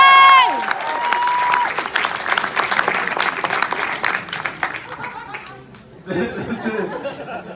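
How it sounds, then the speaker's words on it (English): A convention crowd at a live comic-con stage show breaks into a big round of applause, loud dense clapping mixed with cheers and some laughter, tapering off before a fresh burst of crowd chatter and voices near the end. "Ladies and gentlemen, a big round of applause for AJ."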